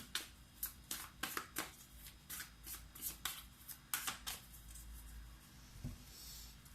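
Tarot cards being shuffled close up, a quick rhythmic run of crisp riffling bursts that ends in a softer card being drawn, with no talk.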